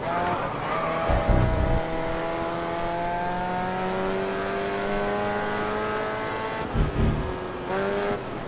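Open-wheel race car in Grid Autosport braking hard, engine pitch sweeping down through gears with short tire-squeal bursts, loud and continuous with no talk.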